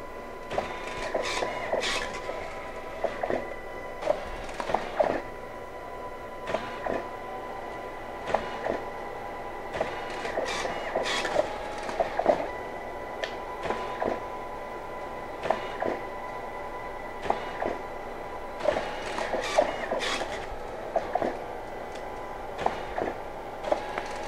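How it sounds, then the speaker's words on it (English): DS40 and DS80 dye-sublimation photo printers running together, producing a steady mechanical whir with repeated clicks and feed thumps at intervals for several prints. "Both printers just started up."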